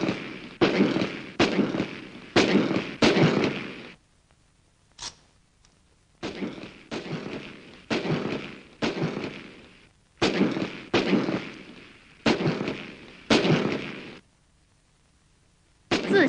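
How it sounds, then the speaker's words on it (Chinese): Rifles fire at a shooting exhibition in rapid bursts of sharp, loud cracks separated by short pauses, repeating several times over a quarter minute. "祖孙三代射击表演。"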